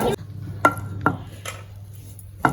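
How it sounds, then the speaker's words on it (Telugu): Tomatoes and green chillies pounded for pickle, heavy thuds of a pestle striking in a slow, irregular rhythm, five close, sharp knocks with quiet gaps between. "టమాటాలని ఇలా దంచుకుంటూ ఫస్ట్ ఇలా దంచేసుకోవాలి"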